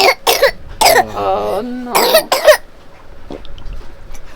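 Several harsh coughs from a sick baby burst out close by, broken by a brief spoken exclamation, then the room goes quiet.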